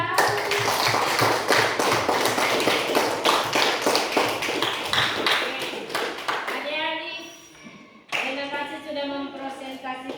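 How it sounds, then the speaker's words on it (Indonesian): Children in a classroom clap together for group 3, a dense burst of close, busy hand claps lasting several seconds, then fading out as a voice speaks over the tail. "Tepuk tangan dulu untuk kelompok 3"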